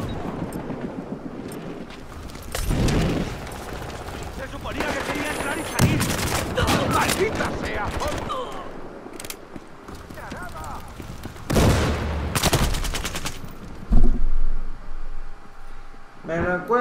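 Gunfire in the video game Battlefield Hardline, with repeated loud bursts of shots and explosive booms in several clusters across a busy battle soundscape, and someone talking over parts of it.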